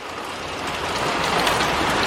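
A heavy summer downpour with thunder nearby: dense, continuous hiss of rain hitting surfaces, loud and close, building slightly over two seconds with no voices.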